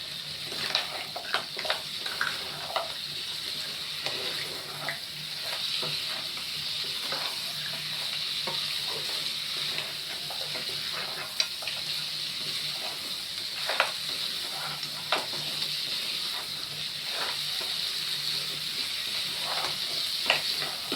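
Cracked crabs hit a pan of frying masala and get stirred, giving a steady sizzle with scattered scraping clicks of the spoon throughout.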